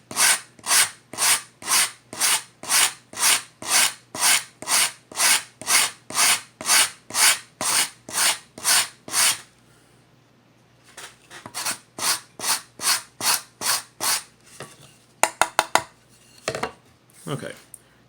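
Steady rhythmic rasping strokes of sandpaper on a wooden Native American style flute, about two per second, close and loud, then a pause and a softer run of strokes with a few clacks.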